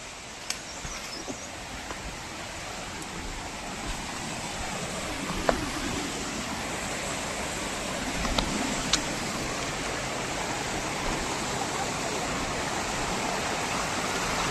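A steady, full rush of flowing water from the Resham Khola river runs without pause, loud and close, with a few faint clicks on top.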